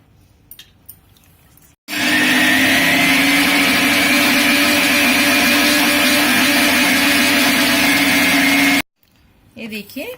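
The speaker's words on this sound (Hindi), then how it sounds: "तो अच्छे से पीस के लेते हैं" A blender grinds soaked dosa batter, a loud steady whirring drone that runs for about seven seconds and then cuts off abruptly, with brief quieter sounds before and after.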